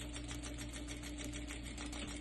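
A sewing machine stitches along the edge of fabric for a cloth diaper, making a steady, soft, fast whirring hum with no voices.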